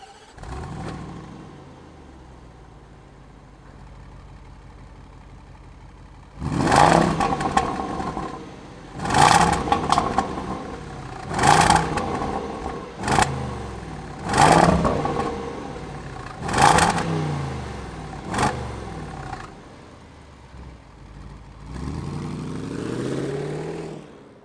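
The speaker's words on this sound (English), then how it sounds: "fire up this Range Rover Sport SVR" A 2022 Range Rover Sport SVR Ultimate engine settles at a steady idle, then takes a series of about seven loud, sharp revs with quick drops between them, ending on another rising rev.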